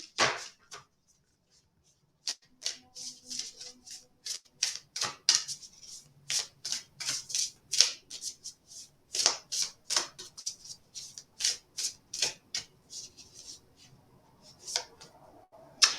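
Oracle cards are shuffled again and again in quick, crisp riffling bursts, close by and fairly quiet, with short pauses between rounds.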